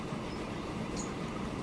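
A short stretch of a game train running on its line in Transport Fever 2, giving a continuous low rumble of wagons on rails.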